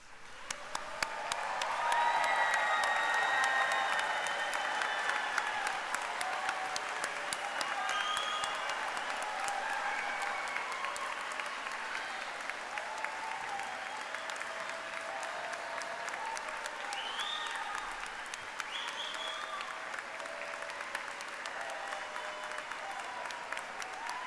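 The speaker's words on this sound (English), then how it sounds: "share in a roaring applause for all of us today." Sustained applause fills a graduate school commencement ceremony hall, a dense wash of many hands clapping that swells early and then holds steady for over twenty seconds, with scattered whoops from the crowd.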